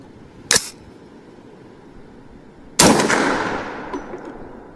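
Two loud shots crack from a Bear Creek Arsenal .458 SOCOM rifle fired at a 100-yard target, spaced a couple of seconds apart. The second shot rings out with a long echoing decay across the range.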